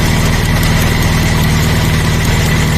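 A Daihatsu Ceria 1.0 engine idles steadily with a close, even pulsing throb during carburetor adjustment for a flooding carburetor, heard alone without speech.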